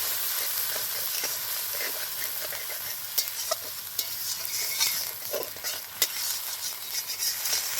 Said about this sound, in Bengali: লঙ্কা বাটা দিয়ে একসাথে কষে নিব